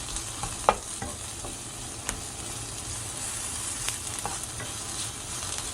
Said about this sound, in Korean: 소금 간하셔서 살짝 볶아주세요.